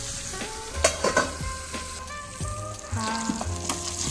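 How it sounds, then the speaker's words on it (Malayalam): Fish fries in coconut oil with a steady, close sizzle and crackle, punctuated by a few sharp spatters and pops. "മീൻ ഇങ്ങനെ വെളിച്ചെണ്ണയിൽ ഫ്രൈ ആവുന്നതിൻ്റെ ഒരു നല്ല മണം വരുന്നുണ്ട് കേട്ടോ"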